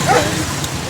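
Dogs barking and yipping close by in a steady, busy burst, with a faint hint of voices and background noise underneath.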